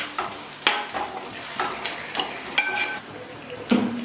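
A Kerala-style duck roast curry is stirred in a pan with repeated scraping and clinking of a utensil against metal over a soft background sizzle, and the strokes come in an uneven rhythm close up, with no talking.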